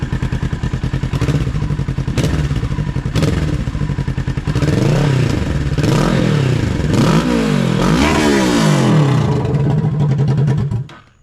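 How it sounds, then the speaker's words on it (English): A motorcycle engine fitted with an exhaust silencer idles with a steady putter, then revs up in a few sharp throttle blips and rising surges before cutting off. "I'll give y'all a couple blips of the throttle, and then like a full throttle"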